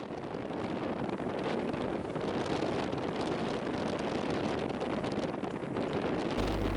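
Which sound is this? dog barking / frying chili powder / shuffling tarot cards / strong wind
strong wind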